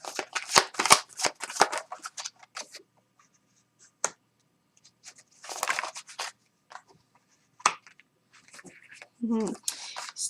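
Tarot cards shuffled by hand, quick papery riffles and slaps in irregular bursts with silent gaps, close and fairly faint, with some brief speech-like sounds.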